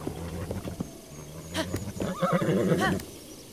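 A horse whinnies and snorts in The Legend of Zelda: Breath of the Wild, a loud neigh rising and falling near the end, with soft game hoofbeats and ambience before it.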